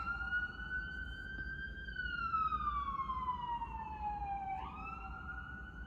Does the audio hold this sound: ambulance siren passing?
yes